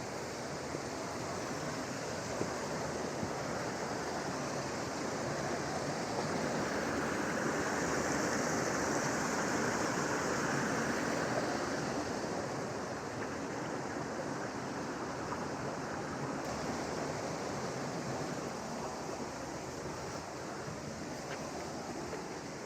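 A brook rushes steadily through a Peak District rainforest, a loud unbroken hiss and babble of flowing water that swells slightly midway, with no voices.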